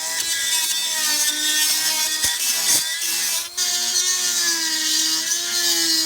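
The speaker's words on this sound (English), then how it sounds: "They just have to be muscled off with some power tools." A loud, steady high-pitched grinding and whining of a power tool removing corroded fasteners from a Jeep, running continuously with brief dips.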